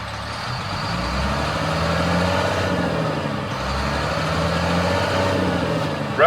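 A 2007 Sterling L7500 garbage truck with an automatic transmission revs its diesel engine, a loud, deep rumble that swells and settles in a couple of broad waves, ending with a brief sharp burst.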